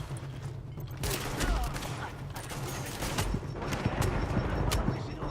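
Dense video game gunfire in a chaotic firefight, rapid bursts and shots crackling continuously throughout, with a faint voice underneath.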